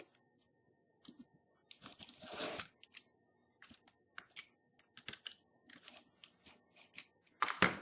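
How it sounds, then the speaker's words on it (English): A utility knife cutting recycled carton on a cutting mat, close and quiet, with scattered short scraping slices and crisp scratchy cuts in irregular bursts. "And I'm going to use a utility knife"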